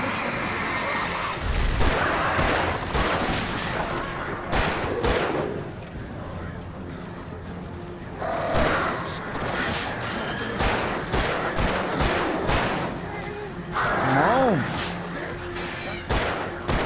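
Gunfire in the video game Alan Wake Remastered: a series of loud, sharp shots in irregular bursts with booming impacts and crashes, interspersed with a player talking.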